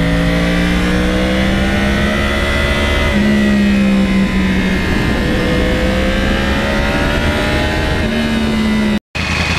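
A 2009 Yamaha R1 crossplane motorcycle engine with about 32,000 miles revving loud and close, its pitch rising and falling in sweeping waves without a break until a brief dropout near the end.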